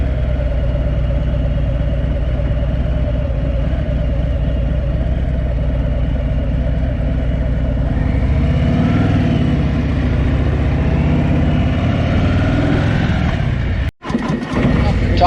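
A motorcycle engine runs steadily with a low droning idle hum, close and loud, rising slightly in intensity partway through before a brief dropout near the end.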